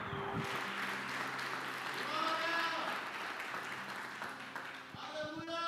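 A church congregation claps and applauds steadily throughout, with a voice and sustained musical tones carrying over the applause.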